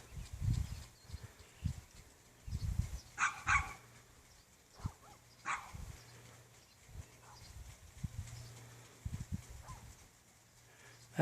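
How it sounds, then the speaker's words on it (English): Dogs barking in the distance on a quiet early morning near a garden, scattered faint barks at irregular intervals over low outdoor background noise. "Nice and quiet early in the morning, except for the dogs, of course."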